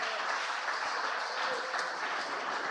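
A church congregation claps their hands in steady, dense applause, moderately loud and continuous throughout, with no voices standing out.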